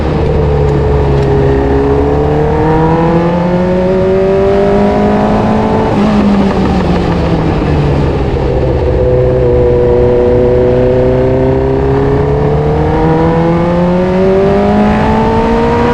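A Formula 1 race car engine screams loudly and continuously close by as the car drives around a circuit in first gear, its pitch rising and falling repeatedly with throttle changes.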